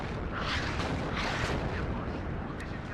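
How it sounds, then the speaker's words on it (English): Incoming artillery explosions in the video game WARNO, a steady rumbling wash of distant booms and blasts with a low, continuous roar and someone talking over it. "look at that artillery coming in"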